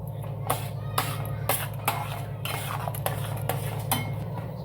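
A spoon stirs thickening orange jelly with ghee in a pan, scraping and clinking against the metal in a steady, uneven rhythm over a low constant hum.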